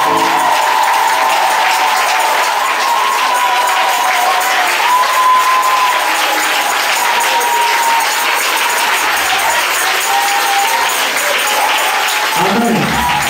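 A church congregation applauds the elders with sustained, dense clapping that stays loud and even throughout, with voices mixed in.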